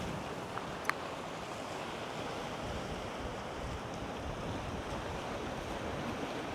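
Sea waves wash steadily onto the shore at Broadsands beach near Elberry Cove, forming a broad, even roar mixed with wind rumble, with one faint sharp tap early on.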